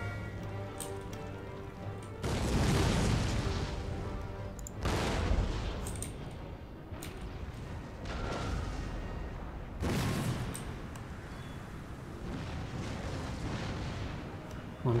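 Battlefield in Empire: Total War with musket volleys and artillery fire, several loud crackling bursts of gunfire every few seconds over a rumbling, rain-like din, with faint voices at times.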